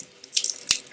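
A tap runs water into a sink, turned up so the stream splashes and sputters, with brief bright bursts of spray over a soft steady flow.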